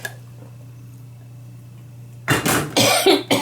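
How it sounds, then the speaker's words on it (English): Someone coughs in a short burst of several harsh coughs up close, after a quiet stretch with only a low steady hum. "I got a bit of a cough."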